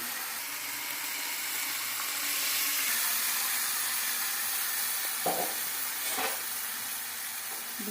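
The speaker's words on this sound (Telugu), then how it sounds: "ఇది పొచ్చి వాసన పోయే వరకు వేయించుకోవాలి" Masala paste sizzles steadily in hot oil in a pan for a home-style boiler chicken curry, with a continuous broadband hiss and a couple of brief stirring scrapes near the end, and no voices.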